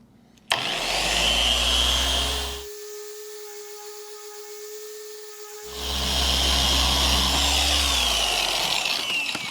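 A power polisher with a pad, used on a 1998 Mercedes C230, whirs loudly at medium speed, drops to a lower hum for a few seconds, then spins back up, with no talking.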